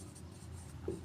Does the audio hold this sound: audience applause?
no